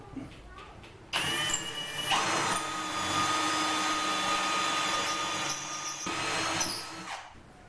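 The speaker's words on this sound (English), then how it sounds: "And we just drill this one in here." A power drill bores holes for a homemade craypot (lobster pot) in a workshop in Perth, Western Australia, producing a steady high whine that starts abruptly and runs for about six seconds before dropping off, close and loud.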